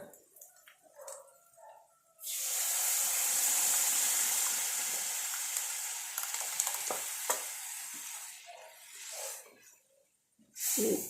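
Cooked red lentils tipped into a hot pan for dal, setting off a loud, steady sizzle that swells abruptly after two seconds, holds bright and hissing, then eases off with a few stirring clatters near the end.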